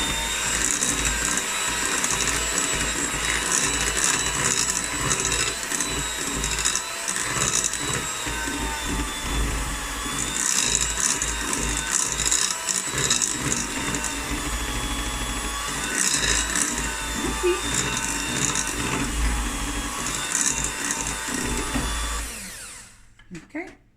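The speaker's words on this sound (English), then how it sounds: "now we're going to mix all this together" Oil and icing sugar being mixed together for Romany Creams biscuits, heard as a steady, loud whirring drone that runs almost unbroken for the whole stretch, then cuts out near the end.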